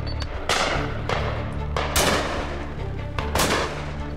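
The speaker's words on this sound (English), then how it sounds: "Nice shooting, Chris." Shotguns fire at driven birds in Idaho, several loud sharp blasts spaced about a second apart with echoing tails, mixed with fainter distant shots along the line of guns.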